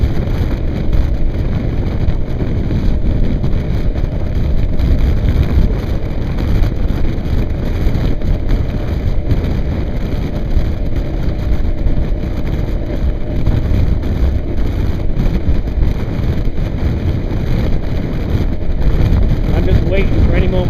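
A motorcycle cruises on the open road at about 70 mph, heard as a steady, loud rumble buried in heavy roaring wind noise.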